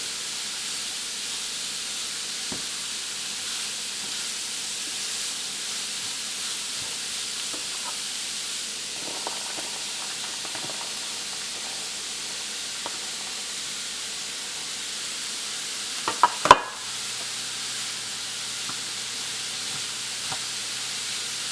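Shredded cabbage for a Kerala thoran fries in a pan with a steady, even hiss, broken by faint stirring scrapes and one short clatter near the end.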